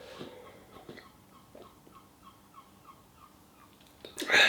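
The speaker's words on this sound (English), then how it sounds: "Even that seagull agrees." A seagull calls outside a home kitchen, its faint, repeated cries sounding at an even pace in the background before a louder burst of noise at the end.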